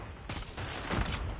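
Sniper gunfire in the mobile shooter Call of Duty Mobile comes as dense, loud bursts of shots and impacts packed into a short stretch, with no gaps of quiet between them.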